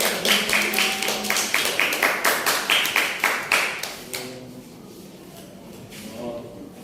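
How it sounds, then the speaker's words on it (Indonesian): Classroom students applaud classmates after a presentation, a group of hands clapping in a steady rhythm for about four seconds before fading into quiet room tone. "Terima kasih Mbak Putri, Mbak Clara, tepuk tangan dong."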